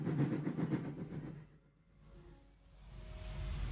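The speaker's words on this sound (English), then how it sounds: "Then they take a train to Italy" A train sound effect: a rhythmic rumbling chug at moderate volume that fades to near quiet midway, then a steady rolling rail hum builds back up, with no speech over it.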